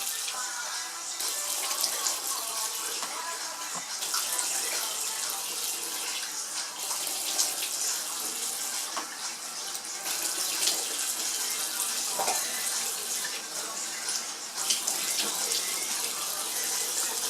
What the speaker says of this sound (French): je rince mon visage